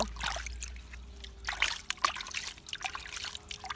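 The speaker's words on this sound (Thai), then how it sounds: "เราวักน้ำใส่ตรงกกแบบนี้นะคะ" Water scooped by hand and poured onto the base of a potted plant, with soft trickling and dribbling splashes in several small bursts, close and fairly quiet.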